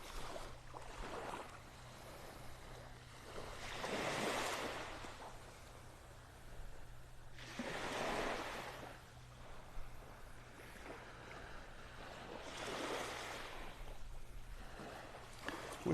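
Ocean waves break and wash up on a beach in North Naples, Florida, in three broad surges with quieter hiss between them, heard steadily along the shore with no talking.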